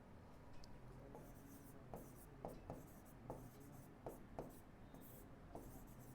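Chalk or marker strokes on a classroom board during a Class 10 polynomials lesson, a steady run of short scratchy marks with small pauses, close and clear over low room hum and a faint voice.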